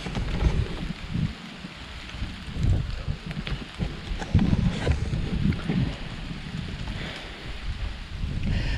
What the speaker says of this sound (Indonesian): dan anginnya sangat kencang banget